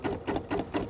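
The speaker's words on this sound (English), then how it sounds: "now I'm going to go ahead and stitch this basting box" An embroidery machine stitching a basting box around a hoop for a pumpkin wall hanging, four quick, evenly spaced mechanical stitch pulses, close and clear.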